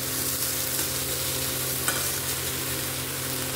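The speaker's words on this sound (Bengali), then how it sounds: "এটাকে আগে ভেজে তুলে রাখতে হবে" Potatoes frying in a pan, a dense, steady sizzle that stays loud and even throughout with no talking.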